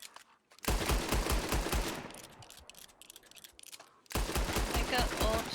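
Rapid automatic gunfire as a magazine is emptied, two loud bursts of quick shots separated by a quieter stretch of rattling and crackle, fairly close and dense.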